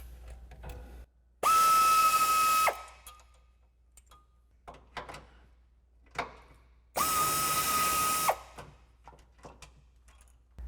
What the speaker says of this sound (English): So I'm using that same 12 millimeter socket to pull these two out.